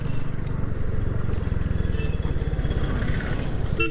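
A Royal Enfield Hunter 350 fitted with Meteor wheels rides through city streets, its single-cylinder engine thumping in a close, steady low pulse with some clatter and passing traffic noise.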